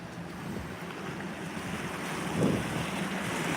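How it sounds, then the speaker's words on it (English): Surf rolls through a coastal inlet at Bethany Beach during Hurricane Erin, a constant low rushing roar with wind noise on the microphone, swelling slightly toward the end, no speech. "This is an area that does see a lot of wave action."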